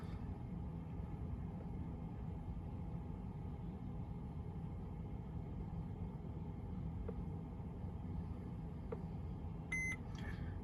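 A VW Crafter dashboard gives a short electronic beep while the ignition is on and a button is held to reset the service light. The beep is brief and faint, sounding near the end over a low, steady cabin hum.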